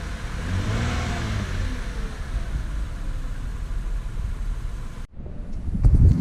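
A 2007 Lexus GS350 engine revs steadily and loudly up close after radiator replacement, a continuous rumbling roar that cuts briefly before a low thump.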